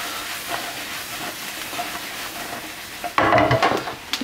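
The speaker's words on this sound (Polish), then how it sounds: "Pieczarki się już tutaj smażą." Mushrooms fry in a pan with a steady soft sizzle and hiss, then a louder burst of stirring clatter near the end.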